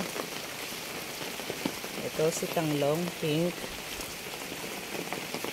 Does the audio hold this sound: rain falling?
yes